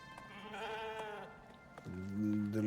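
A sheep in the survival game Icarus bleats twice, a wavering nasal call followed by a lower, steadier one, fairly close and clear over a faint background.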